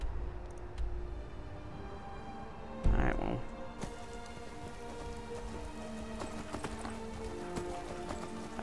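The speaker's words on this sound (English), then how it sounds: "Run! Run, my horse!" Horse hooves galloping in the Skyrim video game, a continuous steady clip-clop under a rain-like hiss, with one heavier thump partway through.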